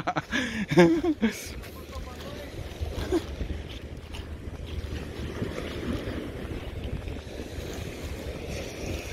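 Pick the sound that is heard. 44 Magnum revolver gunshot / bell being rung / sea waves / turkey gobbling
sea waves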